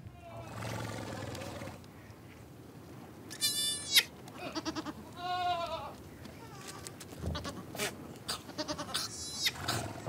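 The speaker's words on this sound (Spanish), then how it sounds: "Sus balidos son hermosos." Sheep bleating on a Mongolian farm in spring, several clear, wavering calls rising at intervals over a low, steady background, close and fairly loud, with one call standing out near the middle.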